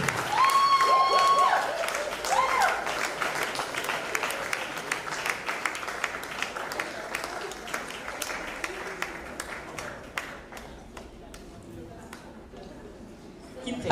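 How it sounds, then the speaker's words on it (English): A graduation audience claps steadily in a dense, sustained round of applause that stays loud at first and then gradually thins and fades, with a brief tone and some voices early on. "Use that energy to clap."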